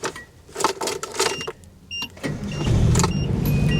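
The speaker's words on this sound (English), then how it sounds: "I heard dinging, that classic Nissan ding" A Nissan warning chime dings in short, high, bell-like tones amid nearby clicks and shuffling, then a steady low engine rumble takes over.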